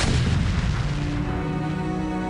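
A StarCraft siege tank fires on a Protoss assimilator in the video game, producing one heavy, loud artillery boom that decays into a rumbling tail.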